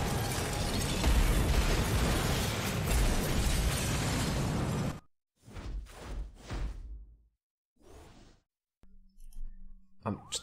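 A loud, sustained explosive roar from a blast under a car with rumbling debris lasts several seconds, then cuts to quieter bursts and mechanical game sound effects, in the video game Saints Row.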